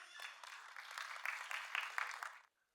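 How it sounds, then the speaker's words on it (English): Parents at a school annual day applaud nursery and playgroup children, a steady wash of clapping that swells over about two seconds and then cuts off abruptly. "So, dear parents, kindly cheer for our students, nursery class and playgroup kids."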